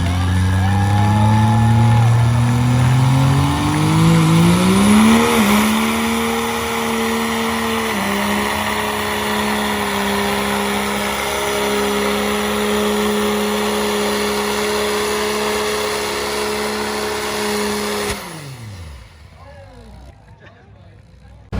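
A 2006 Cummins common-rail diesel roars loud and close under full rev on a test, pitch climbing then holding steady at a high drone before suddenly cutting off and winding down near the end.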